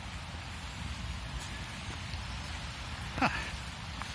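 Steady outdoor rain patters softly and continuously, with a faint brief knock or scrape near the end.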